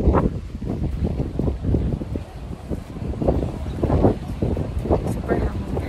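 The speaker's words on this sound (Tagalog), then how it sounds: "Super hangin." Strong wind gusts buffeting the microphone at Bahrain Bay on the waterfront, a steady rumbling roar with repeated surges throughout, and a voice talking over it.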